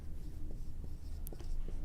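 Pen scratching on paper while working a maths factorising problem, a few faint short strokes over a steady low background hum, with no talking.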